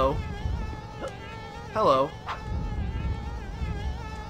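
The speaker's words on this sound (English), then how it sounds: "let's figure out what these bees are." Buzzing bees in the video game Conker's Bad Fur Day, a steady insect drone running under game music, with a brief louder swell near the middle and a voice speaking briefly over it.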